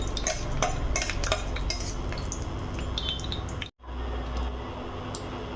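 Garam masala, cumin and panch phoron spices being stirred in a pan for a sweet vegetarian pumpkin dish, a steady close scraping with light clinks throughout, briefly cutting out near the end.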